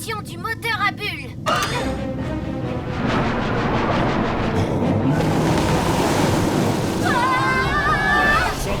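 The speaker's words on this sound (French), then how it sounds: "Inversion du moteur à bulles." A cartoon submarine's bubble engine reverses, churning water into a broad, surging bubbling wash that builds and holds steady, with animated character voices talking before and after it.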